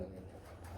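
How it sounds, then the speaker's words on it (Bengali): Fancy pigeons cooing at a bird seller's stall, a low rhythmic coo that carries through a brief, steady burst with close, fairly soft murmuring tones. "কবুতর ডাকবে না কেন? কুকার জন্মটা হয়েছে ডাকার জন্য।"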